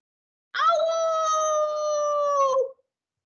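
A person imitates a she-wolf howl, one sustained, steady voiced howl held for about two seconds at close range, alone and clear, then cut off.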